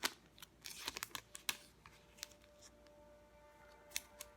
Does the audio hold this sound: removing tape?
yes